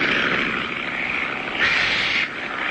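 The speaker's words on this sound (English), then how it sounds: "I hear an airplane. Sounds pretty low, too." A low-flying propeller airplane in a cartoon drones steadily and loudly, its engine note swelling briefly midway with no voices over it.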